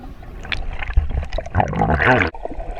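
Underwater while snorkeling at Juniper Springs, Florida, close splashing, bubbling and churning water sounds surge and gurgle for a few seconds, with a louder burst of bubbles near the end before dropping off.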